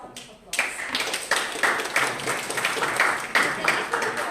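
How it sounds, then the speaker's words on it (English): An audience at a humorous speech contest breaks into applause to welcome a contestant, a sudden burst of many hands clapping that keeps up steadily with dense, overlapping claps. "Please welcome her with a round of applause."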